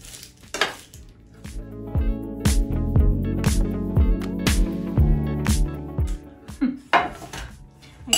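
Roasted sweet potatoes being moved into a dish, with repeated clinks and scrapes of a utensil against cookware, close and busy with irregular knocks throughout.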